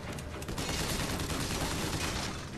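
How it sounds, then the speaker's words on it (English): Dense gunfire in the Bioshock Infinite video game, a continuous loud barrage of overlapping shots and impacts filling the whole moment with no talk. "I'll shoot him in the back because apparently that does extra damage"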